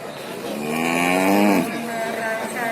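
A bull at the busy Jatirogo cattle market in Tuban, East Java, gives one loud, close, drawn-out moo that rises and then fades, with faint crowd noise behind it.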